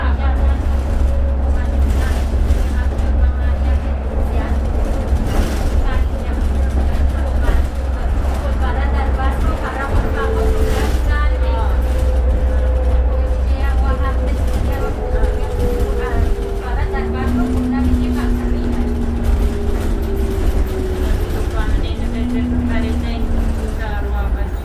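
Inside a 2003 New Flyer D40LF city transit bus with a Cummins diesel engine, a steady low engine drone and road rumble fill the cabin, with rising and falling whine as it accelerates, while people talk over it.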